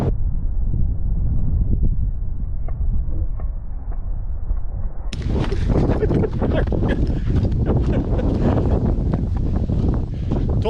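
Gusty wind on a lake during a canoe trip buffets the microphone in uneven surges, growing rougher and louder in the second half, with occasional knocks and rustles.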